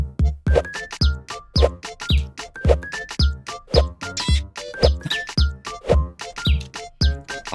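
Rhythmic chirping tones from a rhythm video game repeat in a quick, regular beat over backing music, loud and close with no talk over them.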